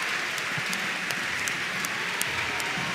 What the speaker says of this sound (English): And you can hear what the crowd think of it in Glasgow as well.